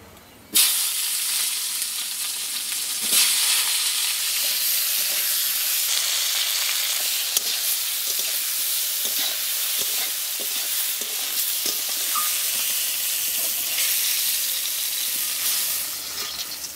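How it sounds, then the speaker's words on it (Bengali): Brinjal pieces drop into hot mustard oil with an abrupt, loud sizzle. A dense, close frying hiss follows and holds steady for over fifteen seconds, broken by occasional stirring clicks, with no voices. "একটু সর্ষের তেল দিয়ে দিই, ফার্স্টে বেগুনগুলো ভাজবো সুন্দর করে।"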